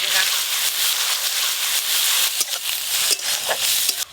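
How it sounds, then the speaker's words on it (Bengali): Onions sizzling in hot oil in a pan for a village-style jackfruit curry, with a bright, steady frying hiss and a few sharper crackles and stirring scrapes near the end. "পেঁয়াজ দিয়ে দিচ্ছি, এই তো হলো।"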